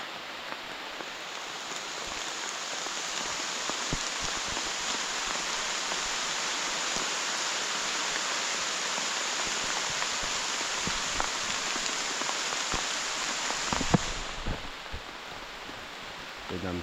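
Steady rain falls through a forest, a dense even hiss from start to finish with a brief louder patch near the end.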